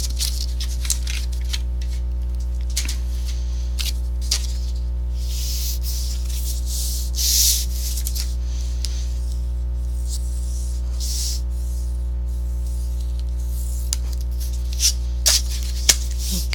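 A scoring tool is pressed hard along very thick cardstock on a scoring board, giving a series of short, scratchy strokes at irregular intervals over a steady low electrical hum.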